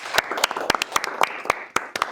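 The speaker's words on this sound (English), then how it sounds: "Can you give yourself a round of applause?" A handful of people in a school learners' audience clap sparsely at a talk event. The claps are sharp and separate, about ten of them in a loose, uneven rhythm, with quiet room tone between them.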